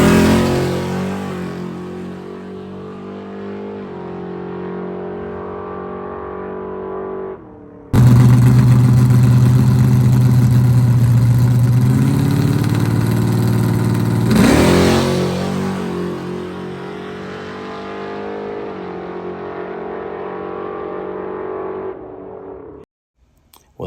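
A high compression twin-turbo Hemi big block engine running on E85 roars through test passes, a sustained loud drone that jumps in pitch and volume midway, then eases off and finally cuts out.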